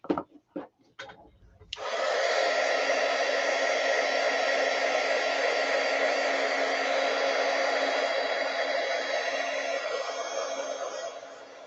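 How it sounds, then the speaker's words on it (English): A heat gun dries a craft diorama, starting after a few brief knocks and then blowing as a loud, steady, close whoosh that holds for about ten seconds before easing slightly. "Use the heat gun for a second here."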